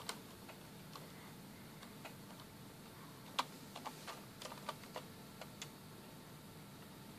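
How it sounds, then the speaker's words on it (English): Sparse clicks of keys being typed on a computer keyboard, quiet and irregular over a faint steady hum, with short clusters of keystrokes. "We try to type more word."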